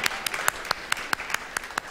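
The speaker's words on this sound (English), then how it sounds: "Keep clapping, keep clapping, keep clapping." Audience clapping at an indoor church talk, a loose series of sharp claps spaced irregularly over a couple of seconds, moderately quiet with a faint room hum beneath and no voices.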